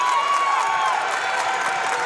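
A crowd at a girls' high school basketball tournament game in a gym, cheering for Menifee County after a made basket, holds a loud, steady roar of voices and applause throughout.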